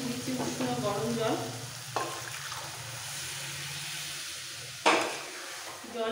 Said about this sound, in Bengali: এবার একটু ভালো করে কষিয়ে নিতে হবে আলু মশলার সাথে।